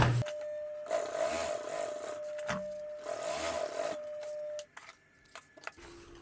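Sewing machine stitching a custom plate carrier placard, adding a second line of stitches to narrow the pistol pouch; a steady mechanical whir runs about four seconds in two bursts, then stops, leaving light handling clicks.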